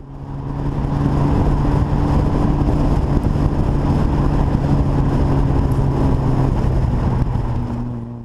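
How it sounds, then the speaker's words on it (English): A 1960s-era Austin Healey 3000 on the road, its exhaust giving a loud, steady, deep droning note with a constant low engine hum, heard from inside the moving car throughout. "You should be able to hear the fantastic exhaust note."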